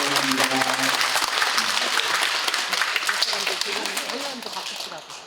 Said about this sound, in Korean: 우리 옆 사람 향해서 우리 박수 한번 쳐드릴까요?